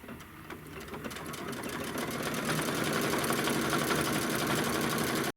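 Embroidery machine stitching the back set of antlers in dark brown thread, a steady, rapid mechanical chatter that builds slightly and runs continuously at close range before cutting off abruptly at the end.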